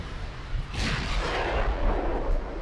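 Heavy naval gunfire from 16-inch battleship guns in the naval combat game Ultimate Admiral Dreadnoughts, a single loud boom with a rushing, roaring tail that lingers as a sustained rumble.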